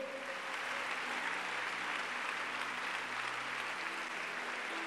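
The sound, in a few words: congregation applause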